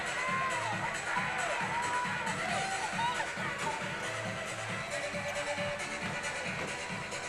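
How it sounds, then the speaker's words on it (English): Crowd murmur fills the gym at a high school boys' basketball semifinal, a steady, fairly distant din that carries on through the whole stretch, with a voice talking over it. "Got the crowd in the background there."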